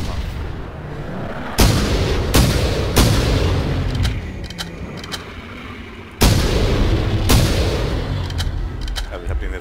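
Gunshots in the dinosaur hunting game theHunter: Primal, several loud sharp reports with booming echoes ringing out at intervals, with softer ambient sound between them.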